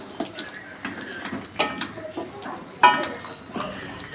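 A spoon clinks and scrapes in a pan while papaya and potatoes with turmeric, salt and chili paste are stirred, the light knocks coming irregularly and fairly quiet over a faint background.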